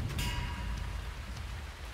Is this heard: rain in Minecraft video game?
yes